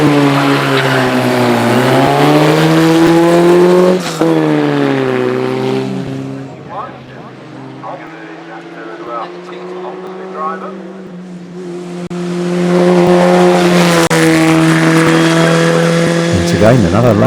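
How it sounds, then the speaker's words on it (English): A Lotus 51A Formula 4 race car climbs the Shelsley Walsh hill, its engine revving hard and shifting, fading to a distant whine mid-run, then surging back loud and close, with commentary talking over it. "another Lotus 51A Formula 4 comes into the S's"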